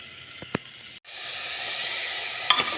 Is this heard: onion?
yes